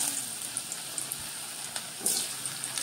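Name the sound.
potatoes frying in hot oil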